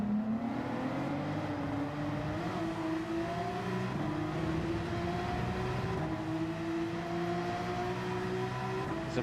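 Porsche race cars duel in Gran Turismo 7 during a Christmas endurance race at Yas Marina, engines droning steadily and loud with rising pitch as they accelerate together, continuous without pause.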